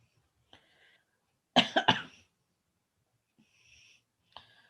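A quiet room, then a short burst of two or three close, harsh coughs, followed by faint breathing and small noises.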